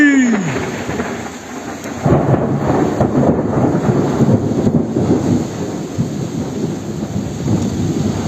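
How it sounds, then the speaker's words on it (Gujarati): Thunderstorm with heavy rain and rolling thunder over a village in Kutch, Gujarat, with a low rumble fading early before a steady, loud rush of rain fills the rest. "વરસાદ થયો ફૂલ વાવાઝોડું"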